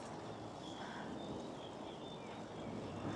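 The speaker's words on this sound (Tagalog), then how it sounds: "Grabe yung hangin." Strong wind roars steadily into the microphone outdoors during a cycling trip in Taiwan, a dense, continuous rush with no speech over it.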